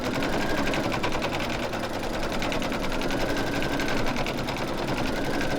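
An embroidery machine stitches down applique fabric on a snowman mug rug, a steady, fast, even needle rattle running close and unbroken throughout.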